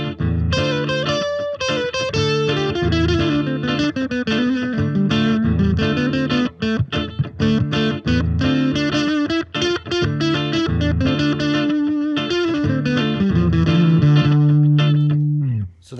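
Electric guitar with effects plays a melodic line in the D Dorian mode, clear picked notes with some reverb and sustain, loud and close, ending on a long held note.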